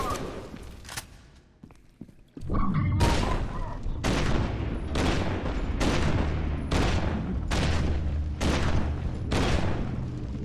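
Gunfire in the F.E.A.R. 2 video game, loud repeated heavy shots and bursts booming in quick succession at close range, each blast ringing out, after a brief quieter stretch with a few scattered shots.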